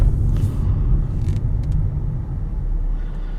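A 1994 Mercedes 500SL R129 roadster cruises along the road with a low, steady rumble of engine and tire noise, fairly subdued and even throughout.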